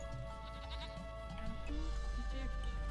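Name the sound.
goats bleating in Age of Empires 2 video game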